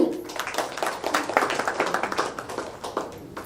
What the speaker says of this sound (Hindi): आप अपने लिए ताली बजाओ जोर से